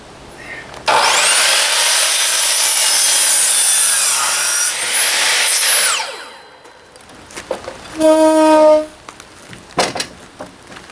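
Power saw cutting a wooden deck corner joist gives a loud, close, high-pitched whine that runs for about five seconds and then winds down, followed by a short tonal beep and scattered knocks.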